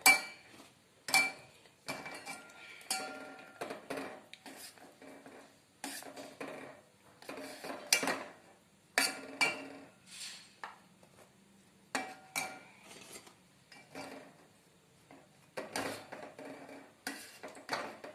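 Syrup-dipped Bengali goja sweets are lifted one by one onto a plate, giving a series of quiet, sharp clinks and taps of a utensil against the dish, separated by short silences, with no talking.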